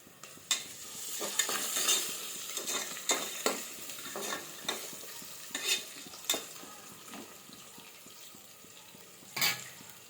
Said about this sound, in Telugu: ఫస్ట్ ఈ ఉల్లిపాయ ఒకసారి కలిపేసుకుందాం మనం.